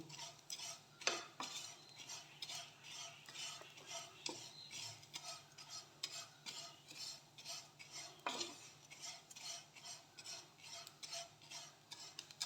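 Vermicelli is stirred and heated in a pan on a low flame, making faint, rhythmic scraping and clinking of a spoon against metal with a light background sizzle, quiet and close.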